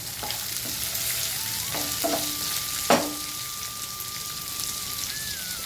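Chopped onions sautéing in a pan for an ivy gourd (kovakkai) rice dish, giving a steady soft sizzle throughout, with a few faint tones and light knocks over the frying and no talking.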